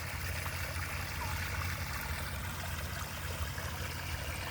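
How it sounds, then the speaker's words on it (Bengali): A small stream of clear rainwater flows through fields into a canal, giving a steady, even rush and trickle that carries on unbroken with no speech. "এটা একটা স্বচ্ছ পানির জলধারা।"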